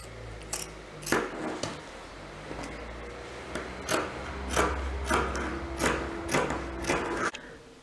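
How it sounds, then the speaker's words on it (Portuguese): Scissors cutting through knit sweater fabric, a series of close, crisp snipping and rasping strokes at a slow irregular rhythm against a quiet room background. "vou começar a cortar aqui deixando um dedinho"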